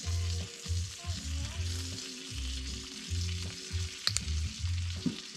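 Honey and soy sauce simmering in a pan at a campsite, a steady close sizzle with a pulsing low rumble and one brief metallic clink.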